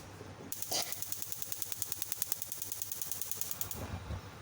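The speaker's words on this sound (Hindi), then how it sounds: "ये देखिए, चूल्हा स्टार्ट हो गया।" A gas stove under a saucepan of water ticks with a rapid, even run of igniter clicks for about three seconds, faint and fairly close, before going quiet.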